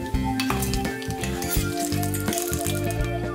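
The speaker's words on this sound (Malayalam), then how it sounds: "ഉലുവ നല്ല ബ്രൗൺ കളർ ആവണ വരെ നമുക്ക് നന്നായിട്ടൊന്ന് വറുത്തെടുക്കാം." Fenugreek seeds and chili frying in a hot pan, a steady loud sizzle throughout with light stirring and metallic clinks against the pan, no voices.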